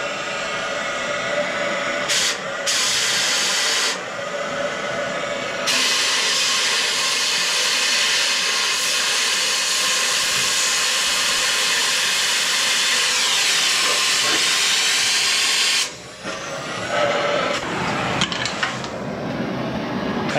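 A cutting torch heating a part on a junkyard LS engine during a teardown, a loud, steady roaring hiss that holds for about ten seconds, then stops and restarts in shorter bursts.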